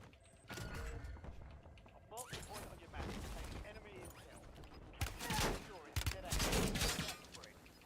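Gunfire in the video game Warzone, a chaotic mix of distant and nearer shots in irregular bursts with sharp impacts, with a voice speaking at times over the shooting.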